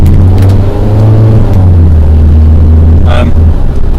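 A car engine holds a steady low idle-like rumble with the throttle brought up against the brake before a hard drag-race launch, loud and close, with a brief higher rev swell near the end.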